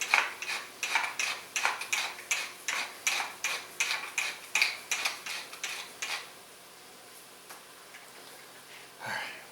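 Fresh black pepper ground in a pepper mill for a wild rice soup: a rapid run of about twenty crisp, rhythmic grinding clicks, close and fairly loud, which stop abruptly and leave quiet room tone with a faint clatter.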